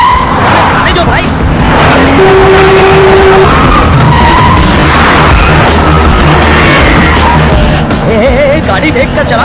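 Car tires skid and squeal in a film car chase, with loud engines and screeching throughout, one long tone sustained briefly, while voices shout over the noise.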